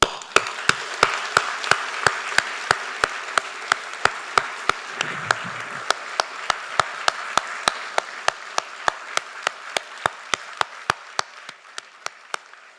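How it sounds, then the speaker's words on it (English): Applause fills a college fall convocation hall, a soft bed of many clapping hands under a steady run of sharp, evenly spaced clicks repeating every half second. "why don't you all give yourselves a warm round of applause?"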